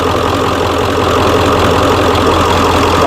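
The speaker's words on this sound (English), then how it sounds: "Listen to that baby purr." A 7.3 diesel truck engine with rebuilt fuel injectors idles steadily and loudly up close, a continuous low rumble with a faint rhythmic knock.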